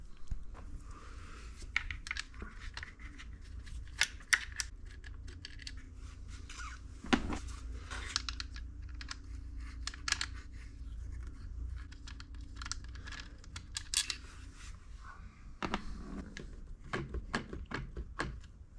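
Bolts being removed from a Honda MotoCompacto: a run of close, sharp ticking and scraping clicks at an irregular rhythm, with a few louder knocks, over a quiet background with no talking.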